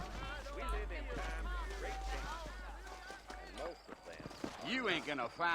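Horse hooves clip-clopping in the Red Dead Redemption video game, a brisk irregular patter of hoofbeats under steady character dialogue and a low ambient rumble.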